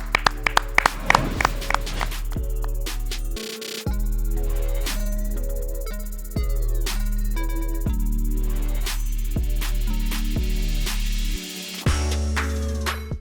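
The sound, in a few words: hands clapping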